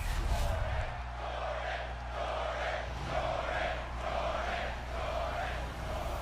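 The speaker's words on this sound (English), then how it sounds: "The crowd here live in Indianapolis chanting the name of Jordynne Grace" Arena crowd in a wrestling video game at an Indianapolis Raw show chants a wrestler's name, rhythmic repeated swells of massed voices over a low steady drone, moderately loud and somewhat distant.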